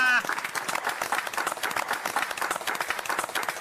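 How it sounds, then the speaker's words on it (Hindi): An audience applauds during a comedy show scene, quick bursts of clapping from a crowd that continue steadily and fairly close, with a voice heard briefly at the start. "तालियां।"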